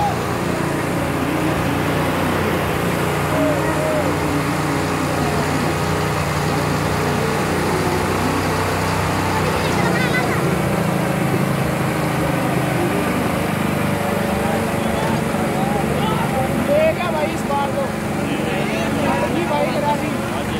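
John Deere tractor straining at full power in a rural tractor pulling contest, with a continuous loud engine drone and rumble throughout and an announcer talking over it.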